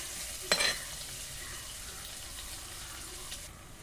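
Curry leaves hit hot oil for a sardine curry, a sharp crackling burst near the start that settles into a steady, quiet sizzle of frying with no talk.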